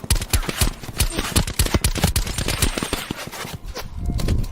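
Rapid bursts of automatic gunfire in the Call of Duty: Black Ops 4 video game, dense sharp cracks firing in quick uneven rhythm with brief gaps, loud and continuous throughout.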